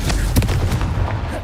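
A Confringo spell blasts off in the Hogwarts Legacy video game, a close, loud booming burst with rumbling low-end impacts that fill the short moment.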